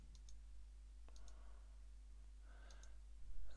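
Mouse clicks on a computer, a few sharp, faint single clicks spaced apart over a low steady hum.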